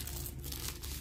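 Cardboard and plastic packaging on a Realme Pad tablet box crinkles and rustles steadily at close range for about a second, with no talking.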